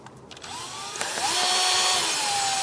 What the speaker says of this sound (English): let's go ahead and drill a little bit down